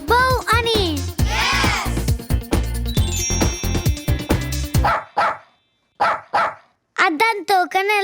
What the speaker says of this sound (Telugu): ఈ కుక్క ఏమంటుందో చూద్దాం. కుక్క అంటుంది